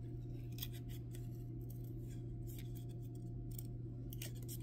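Scissors fussy-cut paper in a series of small, quick snips over a steady low hum, close and fairly quiet.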